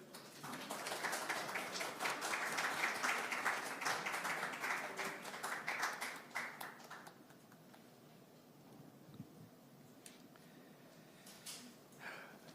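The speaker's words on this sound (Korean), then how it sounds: "박수로 환영해 주십시오." Applause from an audience at a People Power Party presidential primary candidates' vision presentation event in Korea, welcoming a candidate to the stage; broad, steady clapping for about seven seconds that fades into quieter room noise with a few scattered claps.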